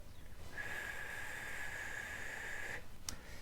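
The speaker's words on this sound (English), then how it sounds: "an exhalation, breathing through the pursed lips" A steady, breathy exhale hisses through narrowed lips for about two seconds, faint and close, followed by a short sharp puff.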